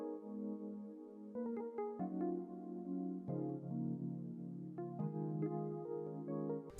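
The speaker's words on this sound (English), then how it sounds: "So I just put up Zenology, grabbed the Soft Pad 1 preset," Soft Zenology pad preset layered with an electric piano, playing a slow chord progression with sustained, shifting chords, steady level, no talking.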